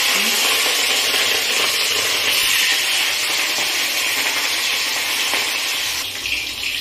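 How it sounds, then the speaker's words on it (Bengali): Katla fish pieces slide one by one into hot mustard oil in a kadai, setting off a loud, roaring sizzle that stays steady and close, easing slightly near the end. "এবার আমি মাছগুলোকে এর মধ্যে ছেড়ে দেব।"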